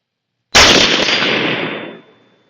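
A Barrett REC7 rifle fires a single M855 round at a steel target outdoors, one sharp loud blast with a long rolling echo that trails off over about a second and a half.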